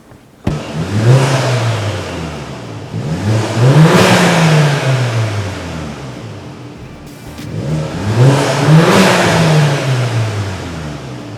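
A Volkswagen MK7 GTI with stock exhaust revs up twice from idle, each rise climbing in pitch and then falling back, loud and close, with no one speaking.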